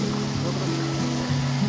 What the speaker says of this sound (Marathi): बोटिंग करतायत तर छान असा धबधबा आहे.